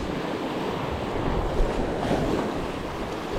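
Sea waves and surf wash continuously along a Cumbrian shore in wavy, windy conditions, a broad steady roar with gusty wind buffeting the microphone and no voices.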